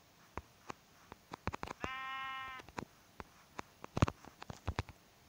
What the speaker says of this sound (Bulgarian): Нека да убием първо тази овца.